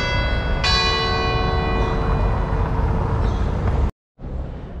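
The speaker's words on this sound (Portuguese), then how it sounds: "Fomos ungidos pelo balalar dos sinos aqui na igreja de São Walter." Church bells ring at the Church of São Gualter in Guimarães, Portugal: a loud, close strike blooms into a long, ringing hum over a steady wash of noise, then cuts off abruptly near the end.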